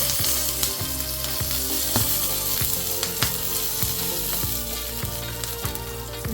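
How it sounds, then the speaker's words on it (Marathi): A spoonful of oil goes into a pan on a low gas flame, making a dense, continuous sizzle with regular ticking scrapes at a steady pace. "आता डाग लागला आहे आपण गॅस बारीक करून त्याच्यामध्ये एक चमचाभर तेल ओतून घ्यायचं"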